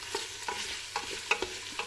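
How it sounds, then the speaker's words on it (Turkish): Diced beef cubes sauté in a pan for a summer vegetable stew, a steady crackling sizzle with repeated scraping stirs of a utensil against the pan, close up and with no talk. "yeterince kavrulan kuşbaşı etlerimiz"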